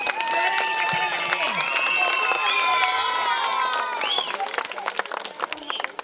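At a government primary school prize-giving, a crowd of parents and children breaks into loud, sustained clapping mixed with cheers and children's shouts, easing off slightly near the end.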